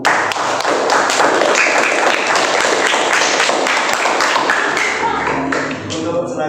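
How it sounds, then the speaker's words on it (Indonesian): Audience in a classroom applauding a student group during a teacher performance exam, dense steady clapping throughout that thins out near the end. "Beri aplaus untuk kelompok 1."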